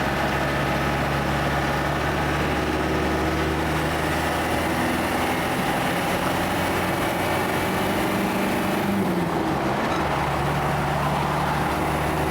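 Old Land Rover Defender engine droning steadily while driving in fourth gear at about 50 mph, a loud, continuous cabin rumble with a slight dip in pitch partway through.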